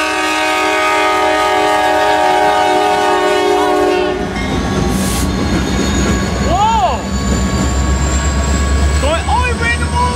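A train horn blares loud and close for several seconds, then the train rumbles past on the rails with squealing wheels and clatter, while voices call out over the noise.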